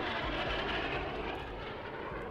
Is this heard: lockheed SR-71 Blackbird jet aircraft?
yes